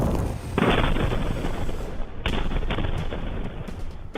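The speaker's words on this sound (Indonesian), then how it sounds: "Serangkaian ledakan terdengar di kawasan Al-Deir, Provinsi Basrah" Heavy booming blasts roll one into another in Al-Deir, Basrah Province, loud and continuous, with a deep rumbling wash and a fresh burst of explosions partway through.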